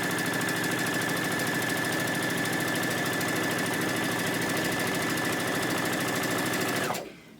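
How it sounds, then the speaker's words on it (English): A sewing machine with an automatic thread cutter stitches quilt squares at a quarter-inch seam, a fast, even mechanical whir running loud and steady before stopping abruptly near the end. "I'm going to start sewing."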